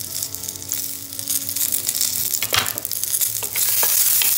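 Garlic and curry leaves sauté in a few drops of oil in a pan, giving a loud, continuous crackling sizzle that grows busier and brighter toward the end, with spatula scrapes mixed in.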